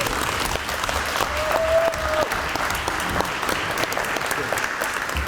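Applause from a crowd at a community update meeting in Homewood, Pittsburgh, a steady, fairly loud wash of clapping held throughout, with faint voices mixed in.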